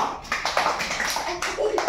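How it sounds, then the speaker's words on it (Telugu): Children clap their hands during a balloon game in a group setting, with uneven bursts of nearby claps scattered under voices talking. "అరే మంచిగా క్లాప్స్ కొట్టండి"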